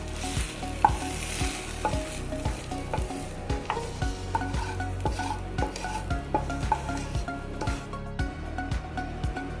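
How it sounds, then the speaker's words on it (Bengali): A spatula stirs fried jute leaves into boiled red lentils in a pot, giving repeated rhythmic scraping strokes with a soft sizzle, close and steady without talk. "এবারে এই ভাজা করা শাকটা এই সেদ্ধ ডালের মধ্যে দিয়ে দেবো।"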